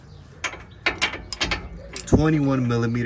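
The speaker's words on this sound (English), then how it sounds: "you're gonna want to remove these U-bolts right here" A ratchet loosening the U-bolts on a 2023 Ford F150 during a rear block delete: several quick, close metallic clicking bursts, then a sustained whirring tone at the end.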